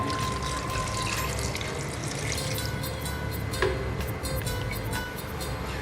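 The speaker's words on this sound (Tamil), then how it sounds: "உருளைக்கிழங்கு, கேரட் இதெல்லாத்தையும் சேர்த்துட்டு நல்லா வேகிற அளவுக்கு தண்ணி சேர்த்துக்கோங்க." Water pours steadily into a pot of potatoes, carrots and cauliflower for pav bhaji, a continuous splashing fill heard close with faint kitchen background and no talk.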